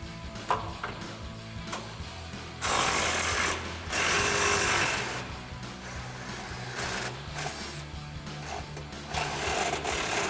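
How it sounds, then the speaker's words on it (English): An impact wrench with an 18mm socket removes rear shock bolts on a RAM 2500 pickup, firing in loud mechanical bursts of rattling hammering separated by quieter pauses, close to the work. "our 18mm socket and impact and take them off"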